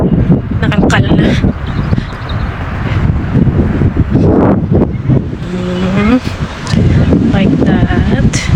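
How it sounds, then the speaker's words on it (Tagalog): Strong winter wind buffets the microphone in rough, rumbling gusts, heard close and loud beneath a person talking throughout. "Ang lakas ng hangin guys."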